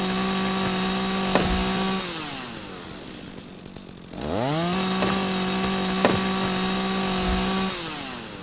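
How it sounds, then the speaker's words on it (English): Chainsaw in the video game Rising World cutting through wood, its motor droning steadily, dropping in pitch for a moment mid-cut, then revving back up and holding a loud, even whine with no talk. "Oh boy, back to the chainsaw, huh?"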